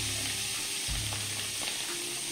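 Shrimp sizzling in butter in a hot pan, a dense continuous hiss close up with a low thump as they go in.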